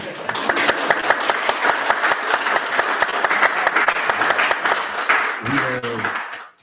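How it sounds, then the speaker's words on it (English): A crowd at a Denver mayoral candidate forum claps in a steady, full round of applause that fades out at the end, with a voice speaking briefly near the close. "You can clap."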